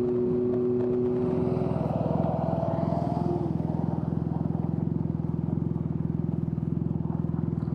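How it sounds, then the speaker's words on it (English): A Can-Am Ryker three-wheeler fitted with a Two Brothers S1R exhaust, heard while riding: a loud, deep, boomy engine drone that holds steady throughout, close to the listener with no speech over it. "this exhaust is louder than my R1"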